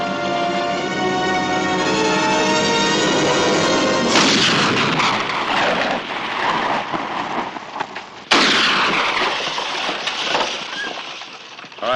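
Dynamite blast and gunfire in a western film, a loud sustained rumbling explosion followed by a second sharp boom and crackling debris, with no talk.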